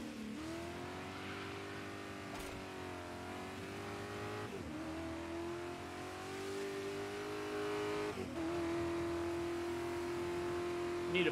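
Race car engine in Dirt 5 on Xbox Series X, screaming steadily at high revs with rising pitch sweeps as gears change, a continuous loud drone with a brief dip mid-run and no talking.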